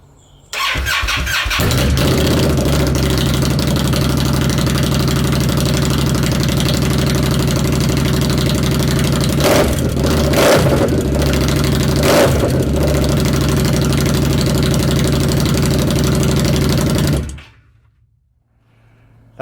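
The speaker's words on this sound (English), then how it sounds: "It's the Vance and Hines slash cut exhaust on that Indian Scout bobber." An Indian Scout Bobber fitted with Vance and Hines slash cut exhaust starts and idles in cold weather, a loud, steady, throaty rumble with a few sharper revs before cutting off abruptly near the end.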